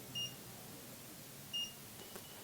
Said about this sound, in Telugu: ఓవర్లోడ్ రాగానే మనకి బీప్ వస్తుంది